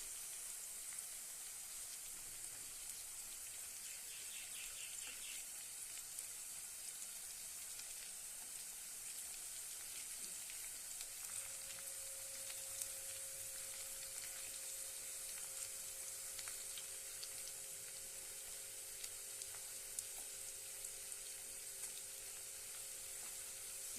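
Radish masala fries in oil over a low flame, a soft, steady sizzle and crackle running throughout with faint scattered pops, close and continuous, with no voices.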